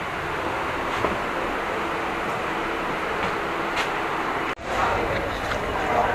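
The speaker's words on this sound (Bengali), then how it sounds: "এই যে ট্রেন ছেড়ে দিচ্ছে" A train pulls out of Balurghat station, a steady loud broadband rumble of rolling wagons that continues throughout, briefly cut off near the end before resuming.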